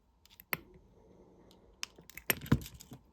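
Sharp metal snips of jewellery wire being cut with cutters in a quiet room: a couple of isolated clicks, then a small cluster of crisp snaps and taps close by, with no talking.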